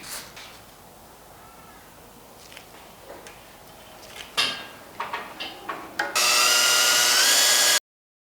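A 6.25 mm drill bores into an engine block for an M7 thread on a BMW M52 stroker build, starting with scattered clicks and taps, then a loud, steady whine that stops abruptly.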